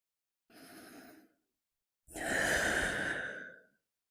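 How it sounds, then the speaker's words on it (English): Deep breathing during yoga stretches in a chakra flow class: a soft inhale followed by a longer, louder exhale sigh, close and alone with no talk. "With deep stretches comes deep breathing."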